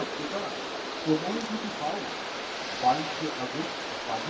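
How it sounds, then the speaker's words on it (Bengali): Rain falls steadily as a soft, even hiss, with a few faint louder drips and distant voices murmuring underneath. "বারবার বলছি বৃষ্টি হচ্ছে"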